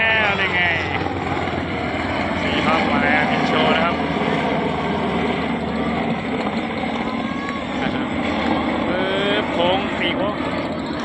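A loud airplane engine drone at a crowded Children's Day fair, a steady close roar that fills the scene while people talk over it.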